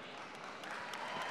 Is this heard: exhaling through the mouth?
no